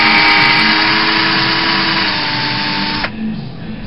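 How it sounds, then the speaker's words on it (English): Power drill driving 1 1/4 inch screws into doubled-over wood for a two-board chair lounger, a steady high motor whine held close for about three seconds before stopping abruptly. "and then I will put a screw in them."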